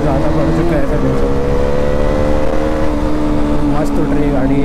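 A vehicle fitted with an Akrapovic exhaust and dB killer accelerates at night, its loud, steady engine drone climbing in pitch, with a voice talking over it.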